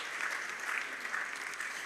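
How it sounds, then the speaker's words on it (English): An audience at a ministerial development forum opening ceremony applauds the calypsonian the Mighty Gabby, a soft, steady patter of many hands heard from some distance. "Please, another round of applause for the Mighty Gabby."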